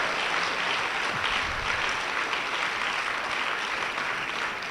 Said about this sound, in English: Can we clap for all the participants?